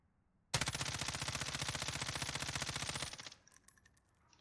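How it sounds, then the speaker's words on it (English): A long burst of automatic fire from the M13 rifle in Warzone, rapid evenly spaced shots ringing loud and close for about two and a half seconds, then cutting off into a fading echo. "go right next to it, shoot the M13"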